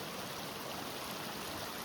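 A snowmelt stream flows steadily nearby, a continuous broadband rush of water with no pauses or voices over it.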